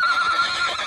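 A horse in a herd in Dagestan whinnies in one sustained, fairly close, high call that holds steady throughout, with no talking.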